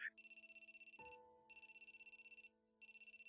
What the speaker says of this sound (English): Hey, you've got a phone call from that guy.